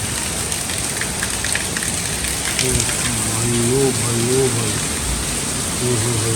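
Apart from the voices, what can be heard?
heavy rain falling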